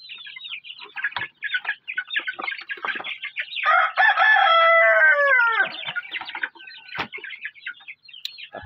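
Chickens and game fowl roosters in a breeding pen crow and cluck, with one long, loud crow in the middle and busy clucking and calls before and after, close by and with no talk.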